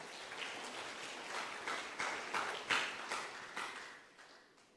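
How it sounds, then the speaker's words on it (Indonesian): A church congregation clapping in praise to God, a soft patter of many hands with rhythmic pulses that swell and then trail off, heard from some distance. "Mau tepuk tangan buat Tuhan?"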